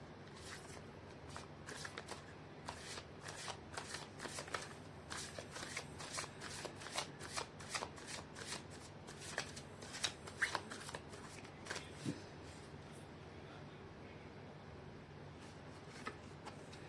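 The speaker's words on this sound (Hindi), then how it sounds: "कर लेती हूँ कार्ड की शफलिंग" Tarot cards are shuffled by hand continuously in close, soft riffling flutters and taps, steady and quiet throughout with no talking.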